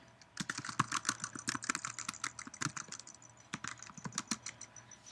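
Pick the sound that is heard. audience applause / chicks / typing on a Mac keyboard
typing on a Mac keyboard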